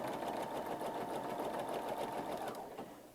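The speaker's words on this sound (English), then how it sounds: "put your presser foot down, then begin sewing." A sewing machine stitches a toddler skirt made from a T-shirt, giving a continuous close whirring hum with a rapid needle rhythm that eases off slightly at the very end.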